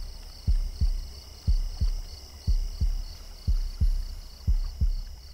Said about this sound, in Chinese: 地面把你的心跳声放得好大